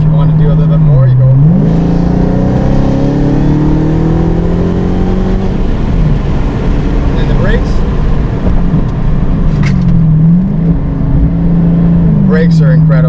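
A loud Dodge Hellcat engine roars and revs hard, pitch climbing steadily as the muscle car accelerates, with a brief dip and rise again near the end.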